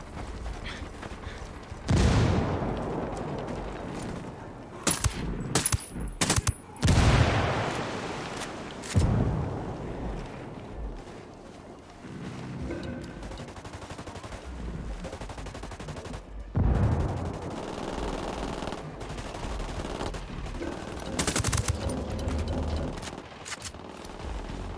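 Bursts of gunfire crackle in clusters across the clip, loud and sustained at times, with rumbling explosive booms amid dense battle noise, from the video game Tom Clancy's Ghost Recon Wildlands.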